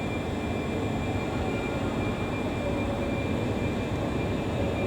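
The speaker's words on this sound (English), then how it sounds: "just up there is a Scotrail Class 380" Scotrail Class 380 electric train at Glasgow Central station, a steady low rumble and hum filling the concourse throughout, moderately loud with no clear passing peak.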